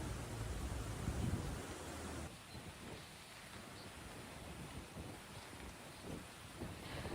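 Heavy rain pouring down steadily on a flooded residential area, a dense, constant hiss of falling water with a louder, rumbling first two seconds before settling into an even downpour.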